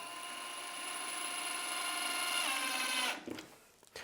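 A power drill whirs steadily for about three seconds, rising slightly in pitch, screwing in a Festool Domino connector pin, then cuts off, followed by a few small clicks.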